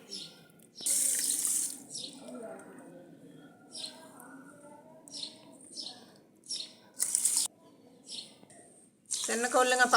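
Water runs and splashes in bursts as it is poured onto sugar for syrup, with quieter stretches between, close by and fairly loud.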